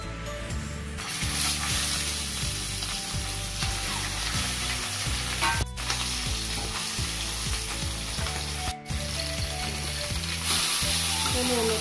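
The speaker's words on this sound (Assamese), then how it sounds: "এটা মিঠাতেল দি তেলখিনি গরম হল এটা আমার মাছৰ মাথাটা ফ্রাই কৰি লম" Fish heads frying in hot mustard oil in a kadai, a loud, dense, continuous sizzle with crackling and spatter, close up and steady throughout, no voices.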